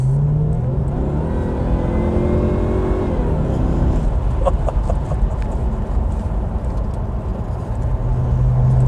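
A supercharged V8 in a Jaguar XKR X100 drives along, its engine note rising through a steady pull, easing briefly, then climbing again, with a continuous loud drone of engine and road noise close by and no talk.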